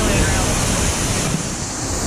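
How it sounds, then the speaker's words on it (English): Waterfall pouring off artificial rocks at Volcano Bay water park in Universal Orlando, a loud, steady broadband rush of falling water heard up close and continuous throughout. "Waterfall coming off the rocks here."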